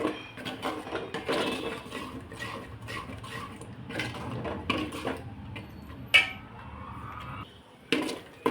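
Onion-garlic masala being stirred and roasted in a pan for a village-style spicy country chicken curry, with steady scraping and clinking of a spoon against metal, close and moderately quiet, and a brief sharp clink near the end.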